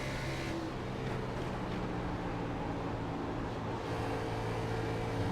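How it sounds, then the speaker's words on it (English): Race car engine at Atlanta Motor Speedway during a low-budget Grand Nationals final, a steady droning hum with light throttle feathering and no clutching, fairly faint and continuous without speech. "I just hear, you know, a little bit of feathering on the throttle, but no clutching"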